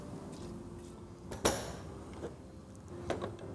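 A metal lid knocks sharply onto a cooking pot of rice as it is covered, one clear clank followed by softer small knocks against a quiet kitchen background.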